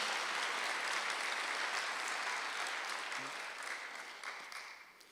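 Sustained applause from a church congregation at a Sunday worship service, dense and steady for the whole stretch, fading slightly toward the end.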